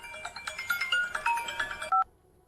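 A telephone dials out for a call: a quick run of short electronic keypad beeps, followed by one longer tone that cuts off into silence.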